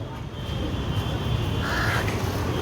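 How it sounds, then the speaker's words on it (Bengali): Crows tearing at and eating a carcass give a few harsh caws over a steady outdoor background hum, moderately close. "দেখতে পাচ্ছ একটা একটা করে কাক আসছে আর ওকে ছিঁড়ে ছিঁড়ে খাচ্ছে।"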